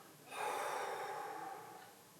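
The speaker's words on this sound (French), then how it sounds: "Et on expire profondément." A single deep, breathy exhale during a stretching exercise, rising softly and trailing off over a couple of seconds, close and alone.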